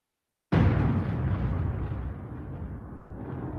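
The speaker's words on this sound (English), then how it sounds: "the thunder." Thunder breaks suddenly after silence as a loud, deep rumbling crack, then rolls on and slowly fades, with a second swell of rumble near the end.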